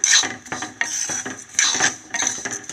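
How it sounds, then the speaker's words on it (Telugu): Vermicelli roasts in a pan for a sweet payasam while a spoon stirs it, giving close, intermittent metallic scrapes and clinks against the pan in uneven bursts, with no talking. "సేమియా కూడా వేపిస్తున్నాను."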